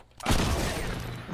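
Double shotgun blasts in the Fortnite video game: a sudden loud boom after a brief quiet start, followed by a sustained rumbling decay with crackling texture.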